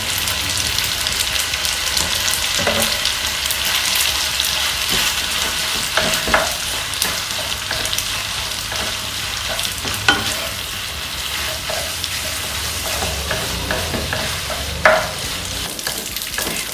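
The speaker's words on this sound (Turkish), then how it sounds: "makarnam tereyağıyla güzelce harmanlandı" Cooked pasta being tossed and stirred with butter in a pan, a steady close sizzle with soft scraping and occasional clinks of a utensil throughout, no talk.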